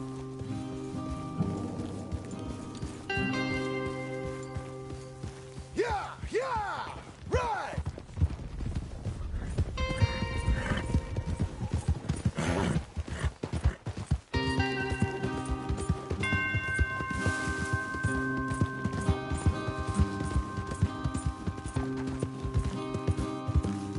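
Horse hooves clip-clop amid rain and game music in Red Dead Redemption 2, with a whinny and low rumbles; busy, layered soundscape throughout.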